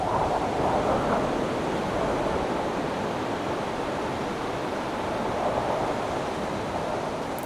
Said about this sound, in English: we watched the waves crash onto shore